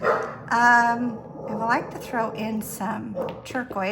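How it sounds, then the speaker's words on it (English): A dog barks and yips several times in a home art studio, the barks fairly close and mixed in with someone speaking over them. "Sorry about my dog."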